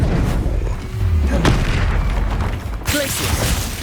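A Confringo explosive spell blast from Hogwarts Legacy on PS5 booms loudly, a deep rumbling impact with a second burst near the end, set amid dense battle noise.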